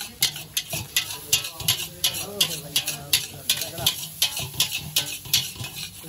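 Chicken triple Schezwan fried rice stirred in a pan at a hotel kitchen, a continuous sizzle punctuated by rapid, rhythmic metallic clacks of the ladle against the pan, loud and close.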